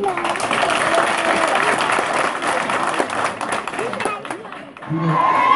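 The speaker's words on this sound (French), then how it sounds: "je demande aux élèves d'acclamer très fort" Students at a prize ceremony cheer and applaud loudly, a thick wash of clapping and crowd noise with voices mixed in, briefly dipping before surging again.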